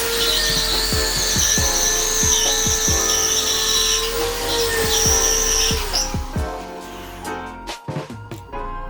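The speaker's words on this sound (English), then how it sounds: "He makes a few holes in the ceiling and then he screws it in." A power drill whines steadily while boring holes into a house ceiling during renovation, with clicking and tapping throughout, then stops and gives way to sharp knocks and clatter as screws are driven in.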